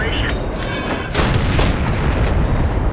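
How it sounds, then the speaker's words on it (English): Heavy tank cannon fire and shell impacts in World of Tanks, a dense, continuous booming roar with sharp blasts near the middle, loud and close, with a voice speaking over the battle. "Sounds like he's being shot to pieces there."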